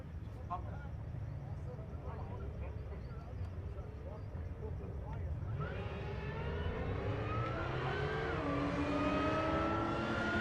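Mazda Miata race car with its engine building in the second half at a Rocky Mountain Race Week drag strip, pitch rising steadily as it accelerates over a continuous low engine drone, with a person talking throughout.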